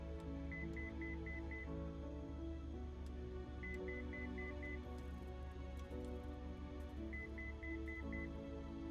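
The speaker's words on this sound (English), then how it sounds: "Why is it beeping? What is beeping at me?" Beeping alert in a flight simulator game: three bursts of five quick, evenly spaced electronic beeps, each group a few seconds apart, over a steady low engine hum inside the cockpit.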